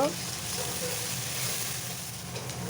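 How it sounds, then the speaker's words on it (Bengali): Onions and chillies fry in a pan as part of a fish curry, giving a steady, close sizzle that holds evenly throughout. "এখন এখানে কিছু পেঁয়াজ মরিচ দিয়ে দিলাম সেটা আমি ভালো করে ভেজে নিব"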